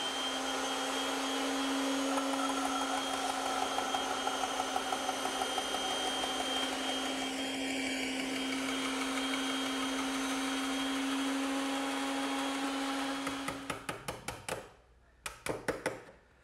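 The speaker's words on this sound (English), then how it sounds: "I prefer to do it on the bandsaw" A bandsaw hums steadily as it cuts a shoulder on wooden tenons, a constant high whine close by that winds down near the end into clunks and a few knocks.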